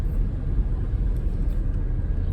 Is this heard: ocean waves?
no